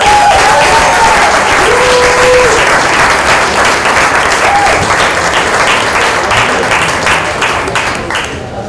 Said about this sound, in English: will you please give everyone a round of applause?